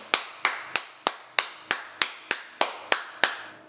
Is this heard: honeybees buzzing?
no